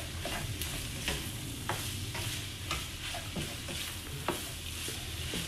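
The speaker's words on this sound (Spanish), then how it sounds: "primero voy a cocinarlo con la cebolla y luego le voy a poner el jitomate" Ground beef and chopped onion cook in a pan for Colima-style sopitos, with a constant close sizzle broken by repeated scraping stirs and no voices.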